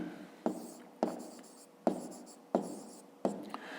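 Digits are written on paper while working a fifth-grade math exercise, giving five separate quick scratchy pen strokes in an even rhythm, close and quiet with no talk over them.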